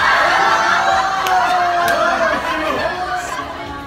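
A crowd of fans gathered at another gate keeps up a steady, loud murmur of chatter with scattered cheers and laughter, a dense wash of many voices with a few sharp shouts rising above.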